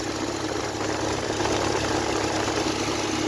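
A Hyundai Grand i10 Nios engine idles with a steady, buzzing drone and vibration while the AC fan motor is connected, a constant close hum with no talking.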